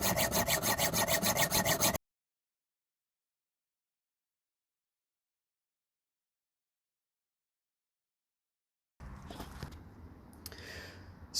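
Screws being cut to size with a hand saw for a guitar case handle, a fast rhythmic rasping of strokes for about two seconds, then silence, then fainter scraping and rubbing.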